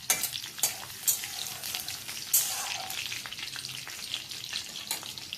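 Crushed garlic frying in hot oil for sambar, a steady crackling sizzle with occasional louder spatters and stirring scrapes, close and fairly quiet, with no talking.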